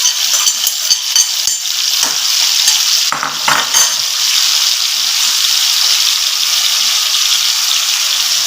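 Onions and tomatoes drop into potatoes frying in a pan for aloo bhujia, a loud close sizzle with utensil clatter and stirring bursts near the start, then a steady hiss.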